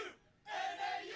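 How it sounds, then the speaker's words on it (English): A cross country team at the NCAA Division I championship shouts its cheer in unison, a loud, close burst of many voices that follows a brief quiet lull. "They know the cheer."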